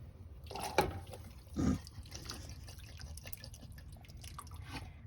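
Home-canned turkey slides from a jar into a pot of soup: faint wet plops and splashes, one heavier splat near the start and a second soon after, then soft liquid trickling, close and quiet with no talk.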